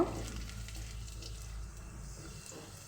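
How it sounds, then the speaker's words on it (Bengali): Whole garlic cloves frying in oil with nigella seeds and dried chili, a faint, steady sizzle heard close by with a low background rumble. "এখন কিছু আস্ত রসুনের কোয়া দিয়ে দিলাম, দিয়ে তারপরে একসাথে সব কিছু আমি নাড়াচাড়া করে লালচে করে ভেজে নেব"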